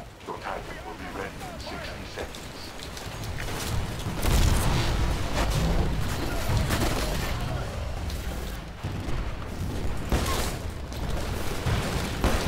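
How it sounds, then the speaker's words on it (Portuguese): Grenade explosions on the Dig Site 7 map in Titanfall's Attrition mode, a dense run of booms and gunfire bursts throughout, loud and chaotic with heavy low rumble. "joga granada e mata todo mundo"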